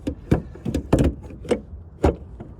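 A small door on a rental Tesla Long Range closes by itself, giving a few close, soft mechanical clunks and whirs spread across a couple of seconds, with no talking.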